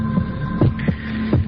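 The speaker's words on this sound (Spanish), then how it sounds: "Latidos de corazón" Recorded heartbeat, steady lub-dub pulses repeating roughly every 0.7 seconds as low thumps over a constant hum, with no talking.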